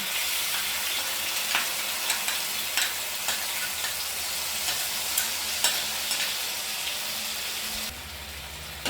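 Ground poppy seed and chilli paste fries in a pan with a steady, fairly loud sizzle and occasional stirring scrapes, continuing throughout before the sound drops off briefly at the end.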